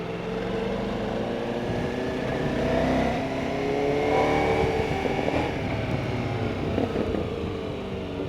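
A Ducati Multistrada V4S (2023) V4 engine revs hard past 5,000-6,000 RPM and holds high RPM, a loud continuous mechanical roar with rising and falling pitch and no voices.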